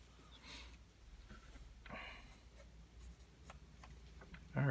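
A mechanical pencil scratching across paper while sketching a monster, with quiet strokes and short scribbles spread evenly, close and soft in an otherwise still room.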